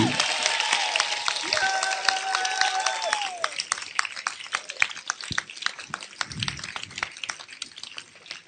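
A church congregation claps during a Sunday sermon, with loud dense applause at first that thins into scattered claps, while a voice speaks over it.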